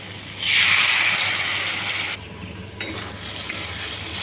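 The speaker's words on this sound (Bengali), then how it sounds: "ধনে পাতা বাটা দিয়ে ভালো করে আবারও কষিয়ে নেব" Coriander leaf paste stirred into spice mix with fried potatoes sizzles loudly in a hot pan, a strong hiss dropping briefly midway before continuing with light scraping.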